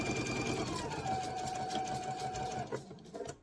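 A sewing machine runs steadily, stitching fabric for a zipper with a fast, even mechanical whir close by, then slows and stops near the end.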